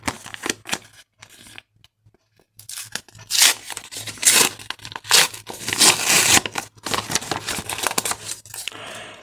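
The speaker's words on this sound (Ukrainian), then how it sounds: "Тож відкриваємо наш пакетик" Crinkly paper rustles and tears in bursts as a packet is ripped open close up, with brief pauses between the crackling handling sounds.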